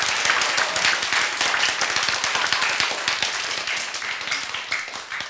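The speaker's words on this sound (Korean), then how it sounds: "박수" A crowd applauds steadily, dense clapping filling the whole stretch at an even, sustained level with no voices over it.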